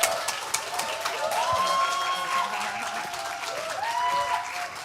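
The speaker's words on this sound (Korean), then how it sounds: "박수로 맞아주십시오" An audience applauds to welcome a singer onto the stage, steady moderate clapping throughout with faint tonal background sound.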